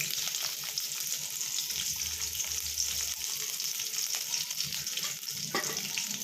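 Onions sizzle and fry in a little oil in a pan for horseradish chutney, a steady close crackling hiss throughout with occasional stirring scrapes.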